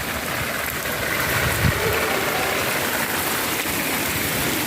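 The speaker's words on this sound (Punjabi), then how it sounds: "ਸਾਵਨ ਦਾ ਪਹਿਲਾ ਮੀਂਹ ਹੈ ਇਹ ਆਪਣੇ ਪੈ ਰਿਹਾ" Steady rain hisses evenly throughout, a dense wash of sound with no voices, close and fairly loud.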